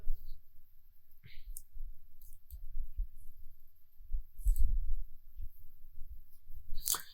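Sharp mouse clicks in Photoshop come in a few scattered, close, quiet bursts over a low background hum, with pauses between them.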